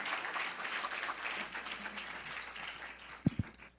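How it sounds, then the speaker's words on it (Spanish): Audience at a conference on customs and automated processes applauding to welcome a speaker, a dense, moderately loud wash of clapping that thins out, ending in a couple of close, sharp claps. "Demos un aplauso fuerte, la bienvenida al licenciado Arturo Segundo Carrillo Voz."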